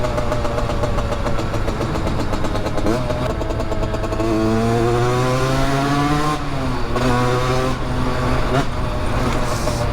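Rieju MRT Pro motorbike engine revving and idling close by, its pitch rising and falling steadily while a broken catalytic converter adds a harsh rattling buzz throughout.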